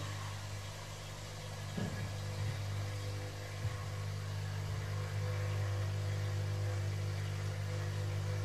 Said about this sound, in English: I turn on the machine. Now the machine works.